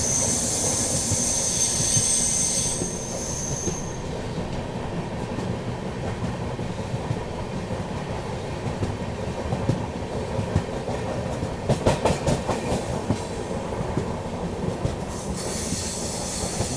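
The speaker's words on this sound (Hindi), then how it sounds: "चलिए फिलहाल अपनी ट्रेन कानपुर सेंट्रल का यार्ड जो है ना, गुड्स यार्ड अप साइड का, उसे पार कर रही है।" The Northeast Express rolls through the Kanpur Central goods yard, its wheels rumbling steadily with squeals and clickety-clack joints from inside the moving train, loud and continuous with no talk.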